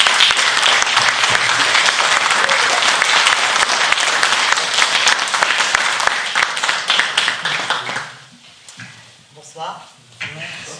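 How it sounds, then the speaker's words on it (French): Audience applause fills a political meeting hall in Saint-Jacques-de-la-Lande, a dense sustained clapping for about eight seconds before thinning out, with a voice starting to speak at a microphone as it fades. "Je vous invite à applaudir Naïma"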